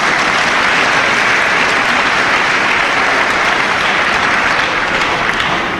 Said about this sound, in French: Vous pouvez quand même applaudir notre mère générale.